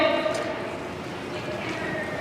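A horse being worked during a demonstration, its hooves clip-clopping steadily at close range beneath a continuous wash of background noise.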